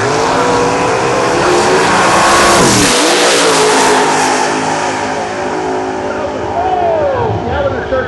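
Drag racing cars from a 32-car field roar and rev at a drag strip, loud and near, the engine pitch climbing and dipping as they pass, with a voice faintly under the din.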